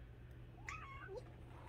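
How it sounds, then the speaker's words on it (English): An indoor house cat gives a single soft, short meow over a steady low hum, quiet and fairly close. "Well, here comes my cat."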